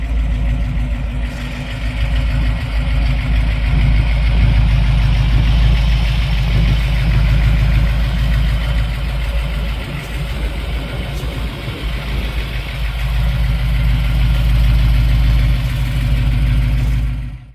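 A 1931 Ford Roadster hot rod with a Chevy big block engine and automatic transmission idles close by in a steady, loud, deep rumble that carries on unbroken for the whole stretch.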